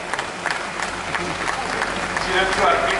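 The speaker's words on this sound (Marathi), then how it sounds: "त्या चिमुकल्याकरिता टाळ्या झाल्याच पाहिजे" An audience at a bird-watchers' convention award ceremony applauds a young award recipient, with dense clapping that swells slightly toward the end.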